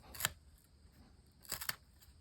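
A Worktuff Voyageur Gen 2 knife slices through nylon rope in two quick, crisp cuts about a second and a half apart, close and moderately loud with near silence between them.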